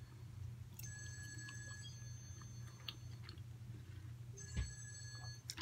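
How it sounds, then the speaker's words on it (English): A mobile phone rings with bright repeating chimes in two bursts, slightly distant and fairly faint, over a low steady background hum. "Sorry if you can hear that. That's my dad's phone."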